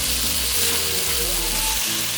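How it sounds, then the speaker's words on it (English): Stir-fry beef sizzles steadily on a hot Hunsaker griddle set on a Weber Smokey Mountain, a loud continuous hiss with a faint low hum beneath and no talking. "can you hear that sizzling noise?"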